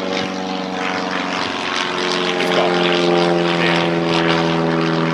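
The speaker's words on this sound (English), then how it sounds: "apologies for the planes, it's near an airport, it's an airfield, sorry, but we get Hurricanes, Spitfires, Red Arrows go over" Propeller aircraft flying overhead near an airfield, a steady loud droning engine hum with a rising buzz, continuous throughout and heard alone without talk.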